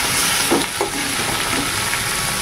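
Prawns fry in a hot pan with a loud, dense, continuous sizzle, a couple of soft stirring knocks rising briefly above it.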